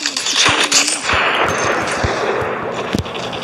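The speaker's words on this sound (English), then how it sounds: "Finally, I get to kill enemies with my rifle." Rifle fire in a Call of Duty match, with several sharp gunshots in quick irregular succession over a dense, noisy background of game sound effects.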